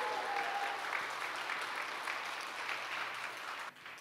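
Congregation applauding at a church's 2021 New Year celebration service, a steady dense wash of hand-clapping that holds evenly for about four seconds before dropping off sharply near the end.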